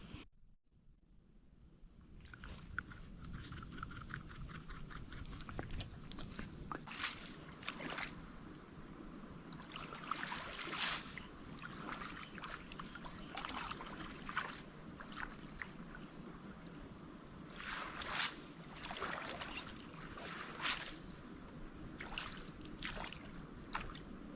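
Small boat engine revving as the craft churns and splashes through water, steady mechanical drone with water rushing, close and continuous throughout.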